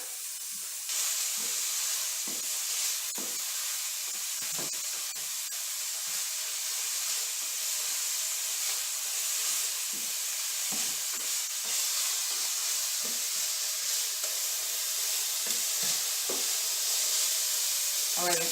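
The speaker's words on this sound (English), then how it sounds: "just sauteing 1 cup of diced onion in" Diced onion sautés in olive oil in a heated skillet, a steady bright sizzle and hiss broken by soft stirring scrapes, close by and continuous, with a voice heard only faintly.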